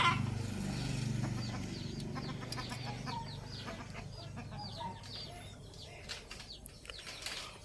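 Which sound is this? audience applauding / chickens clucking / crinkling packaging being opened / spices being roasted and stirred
chickens clucking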